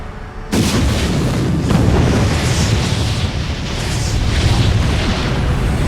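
Heavy booming explosions rumble continuously as starships are struck during a science-fiction space battle, a dense, loud barrage erupting suddenly after a brief quiet start and sustaining without pause.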